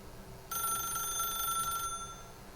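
An old-style telephone bell rings in The Stanley Parable video game, one steady metallic trill lasting about a second and a half over a faint background hum.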